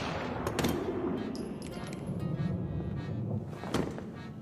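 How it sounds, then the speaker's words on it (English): Loud, booming anime gunshots made to sound like .50 caliber sniper rifles ring out as a dense, heavy barrage, with sharper reports standing out near the start and again toward the end. "The sound designers put an incredible amount of work into making the gunshots sound cool as hell."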